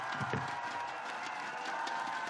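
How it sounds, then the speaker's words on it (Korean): A large crowd applauds to welcome presidential candidate Lee Jae-myung at a Daegu campaign rally. The clapping and crowd roar are dense, loud and steady throughout, with no voice over them. "민생 대통령, 유능한 경제 대통령, 이재명 대통령 후보를 뜨거운 박수로"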